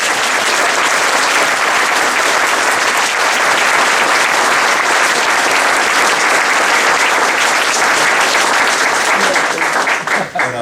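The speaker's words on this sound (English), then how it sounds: "let's give the candidates one more round of applause" Sustained, loud, dense applause from the audience at a League of Women Voters candidates' forum, steady throughout and thinning slightly at the very end.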